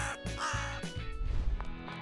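A crow caws several times in quick succession, loud and close, its harsh calls standing alone without speech.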